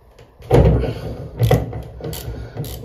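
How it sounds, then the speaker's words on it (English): A ratchet fitted with a 17mm deep socket loosens a tap cartridge in a close series of clicks and metallic clunks, with two louder bursts about a second apart followed by softer ratcheting. "So that's a 17mm deep socket on a ratchet."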